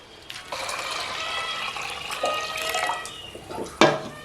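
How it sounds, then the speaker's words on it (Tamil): Soaked tamarind seeds being rinsed by hand in water, a steady close splashing and trickling with a sharper slosh near the end, no voices. "இதெல்லாம் சுத்தமாக அலசிட்டு காமிக்கிறேன்"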